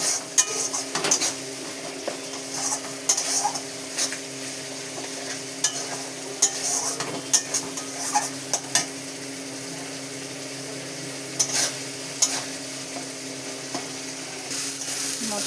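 Spice masala for a Bengali tengra fish curry is stirred in a pan over very low heat, with a steady soft sizzle of frying beneath repeated scraping clicks of a spoon against the pan, close and without talk.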